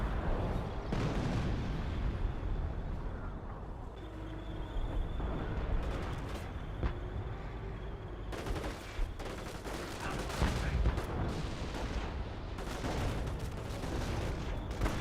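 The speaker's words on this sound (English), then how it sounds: "Oh, that's a Goliath. Goliath does explode." A Goliath remote demolition vehicle blows up amid a Company of Heroes battle, the blast lost in continuous dense rumbling of artillery, gunfire and explosions that run the whole stretch without pause.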